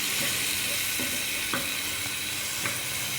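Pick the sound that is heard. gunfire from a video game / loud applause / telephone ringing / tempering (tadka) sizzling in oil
tempering (tadka) sizzling in oil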